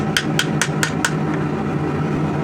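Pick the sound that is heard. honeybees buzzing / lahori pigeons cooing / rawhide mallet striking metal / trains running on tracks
rawhide mallet striking metal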